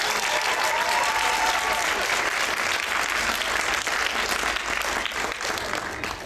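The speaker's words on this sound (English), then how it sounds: "give Alan a round of applause." Loud, full applause from a convention crowd at an anime-con acting lesson, dense and continuous for several seconds with a faint voice rising briefly near the start before tapering slightly at the end.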